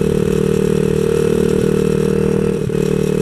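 A 127cc X7 pocket bike ridden slowly in the Philippines, struggling to reach full throttle. Its small engine gives a steady, close buzzing drone with a faint clatter, unbroken and loud, with no voices.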